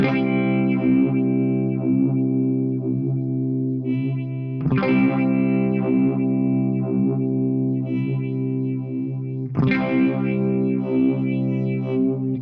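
Electric guitar played through a Flattley Star Fazer phaser pedal with its depth turned up, sustained chords struck about every five seconds, swirling and slightly distorted, loud and close with no talking.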